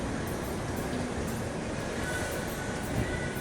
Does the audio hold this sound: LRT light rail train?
yes